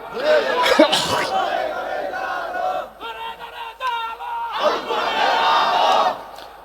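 A crowd at a Bangla Islamic sermon gathering roars Allahu Akbar in answer to a takbir call, loud massed voices rising in two swelling bursts with a brief lull between.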